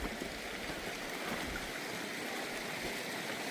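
Creek water flows over rocks along a storm-washed trail, a steady, soft rushing babble with no talking.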